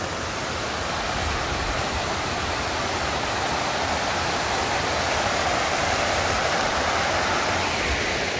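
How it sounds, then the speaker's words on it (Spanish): Waterfall on the Caño Cristales river in La Macarena, Colombia, roaring as a steady, dense wash of falling water, loud and close, with no voices over it. "acá queda una cascada"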